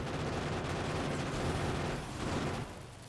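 Sustained gunfire from the player fighting biters and their bases in the factory-building game Factorio, a dense, steady rattle of rapid shots that holds for most of the moment before easing off near the end, with no talk.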